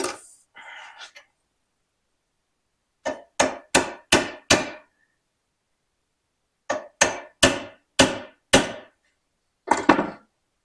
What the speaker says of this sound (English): then I'm going to go back to using my chisel